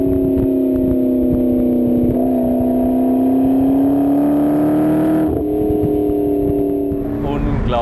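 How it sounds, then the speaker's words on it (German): A McLaren MP4-12C Spyder runs loud and close with a steady droning engine tone that shifts as the driver lifts off the throttle, the turbo's exhaust flaps adding a whooshing change, while someone talks over it. "man hört dann die Auslassklappen vom Turbo und immer so ein sehr schönes Geräusch"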